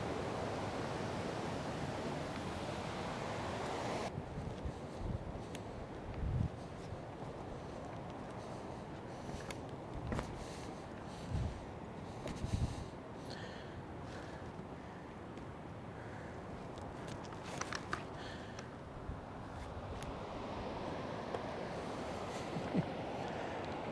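A river flows just above a waterfall, a soft, even rush of water heard from a distance, with a few faint knocks and gusts along the way.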